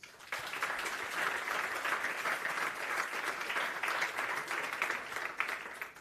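An audience at a football conference panel gives a sustained round of applause, a dense even wash of clapping that lasts several seconds, heard from within the room with no talk over it.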